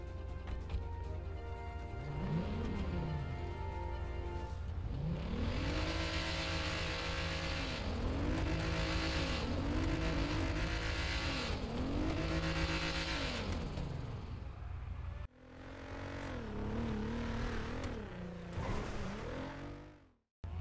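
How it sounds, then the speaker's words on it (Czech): A tuned 2022 Audi RS3 engine with added turbo revs repeatedly, rising and falling in strong surges over a steady idle rumble, loud and close, with a brief cut before more revving. "Tak a teď bychom si mohli poslechnout zvuk motoru."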